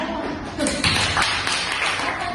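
Brief clapping from a classroom audience during an art lesson presentation, a short burst of claps close by.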